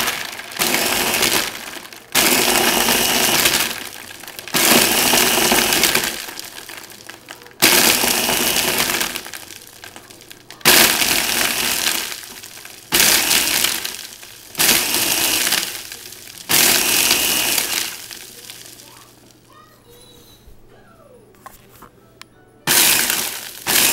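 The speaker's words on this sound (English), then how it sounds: "gonna be making an orange smoothie in the Ninja Master Prep" A Ninja Master Prep blender crushes ice cubes with orange juice and milk in loud pulsed bursts of a few seconds each, separated by short pauses, ending with a quieter stretch before a final burst.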